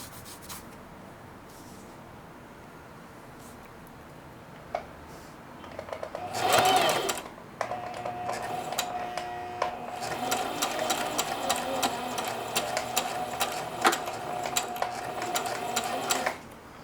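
A sewing machine running a straight stitch, its steady motor whir starting in a short burst, then continuing as a long, even hum up close, with light mechanical rubbing and no talk.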